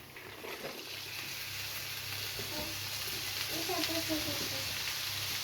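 Chopped, washed vegetables tipped into a pan of onions frying in hot oil, a steady close sizzle rising and crackling as the pieces hit, with faint stirring and brief voice fragments underneath.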